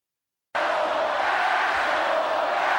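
A capacity crowd in a wrestling arena shouts and roars at the McMahons. After half a second of silence, a loud, dense crowd roar starts abruptly and holds steady to the end.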